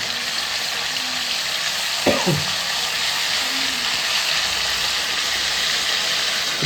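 Chicken coated in ginger-garlic paste sizzling hard in a hot pan, a continuous dense hiss with one sharp scrape or clank partway through.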